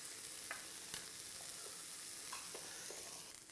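Food cooking in a pan and pushed around with a spatula, a soft continuous sizzle with a few light scraping strokes, faint and close.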